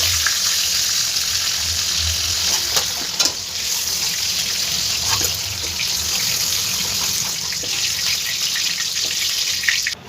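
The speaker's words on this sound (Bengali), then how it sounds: "পটলটাও আমার খুব ভালো করে ভাজা হয়ে গেছে" Pointed gourd (potol) frying in hot oil gives a steady, loud sizzle with a few faint clinks and scrapes throughout.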